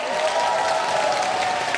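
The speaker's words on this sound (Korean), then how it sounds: "팬들 박수 주실게." Fans in a Catholic Legion of Mary training session in Cheonan give a short round of applause, a steady wash of clapping over a constant tonal hum, close and moderately loud.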